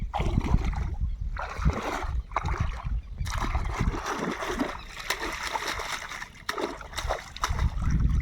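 Water splashes and sloshes repeatedly as something is rinsed and scrubbed, with uneven bursts and brief pauses.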